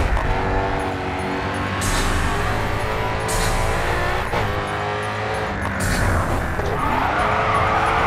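A Ford Mustang GT500 race car in GRID 2 roars with a sustained engine note, climbing and shifting through gears, with repeated tire squeals and skids as it slides through corners.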